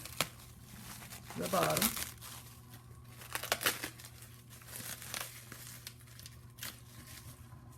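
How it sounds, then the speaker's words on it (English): Saran wrap being peeled off a composite bearing housing, crinkling and tearing in close bursts, loudest early on and then in shorter scattered crackles, with someone talking over parts of it. "take the saran wrap, peel it off"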